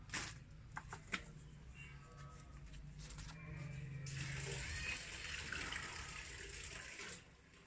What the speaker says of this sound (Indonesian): Ini kurang air, saya akan tambahkan air dulu.